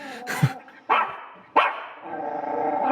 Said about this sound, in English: That's my pet dog.